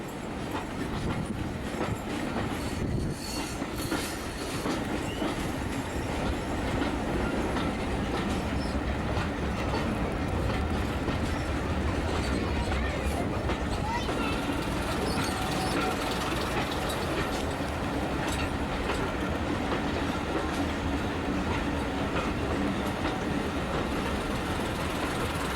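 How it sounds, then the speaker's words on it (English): A steam train on a heritage railway in Gloucestershire rumbles steadily along the tracks with a rhythmic clickety-clack of wheels, continuous and moderately loud, no voices. "It wasn't long until we arrived into the last station on the line on this steam railway."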